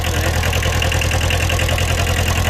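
A Kubota two-cylinder diesel engine idles on a TCM 343 wheel loader, giving a loud, steady, close rumble with an even rapid pulsing beat and no other sounds.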